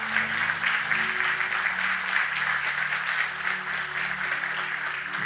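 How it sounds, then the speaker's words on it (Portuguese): A church congregation claps in sustained, even applause for several seconds, loud and close, with a low organ or keyboard chord held underneath. "Eu daria outra salva de palmas para Jesus"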